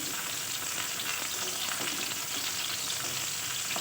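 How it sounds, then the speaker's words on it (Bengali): Slices of pointed gourd fry in hot oil in a pan, making a steady, even sizzling hiss with faint crackle throughout, moderately quiet and close. "আমি এখন পটলগুলোকে ভেজে নেব"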